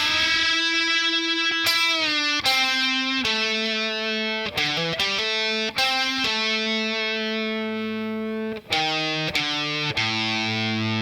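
Electric guitar playing a song intro at a slower tempo, distorted sustained notes and chords ringing out one after another with slides between them, clear and close with no talking.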